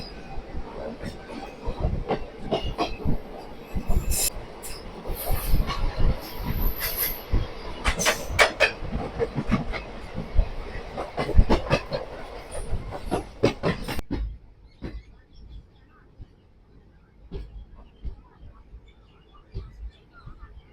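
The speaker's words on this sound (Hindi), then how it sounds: "अहमदाबाद से चलकर नई दिल्ली जाने वाली राजधानी एक्सप्रेस फिलहाल हमें मिल चुकी है डिपार्चर होते ही" Rajdhani Express rolling on the rails from Ahmedabad toward New Delhi, a steady rumble with clattering wheel clicks and occasional metallic squeals, then easing to a quieter hum near the end.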